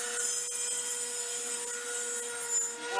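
An angle grinder grinding the edge of a broken cymbal, a steady bright metallic whine with a sustained ringing tone throughout, loud and close, with no talk.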